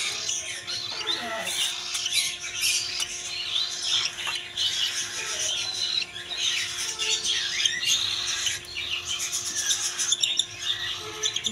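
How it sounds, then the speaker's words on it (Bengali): Baby cockatiels at a bird shop squawk and chirp in steady, busy rasping calls that are close and continuous, with faint talk in the background. "ককাটেল পাখির বাচ্চা"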